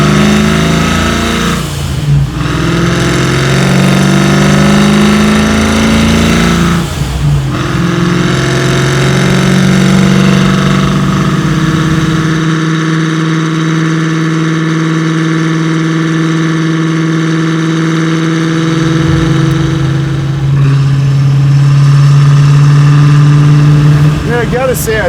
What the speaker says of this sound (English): there's something about the ProChargers, those centrifugal chargers, that sound so cool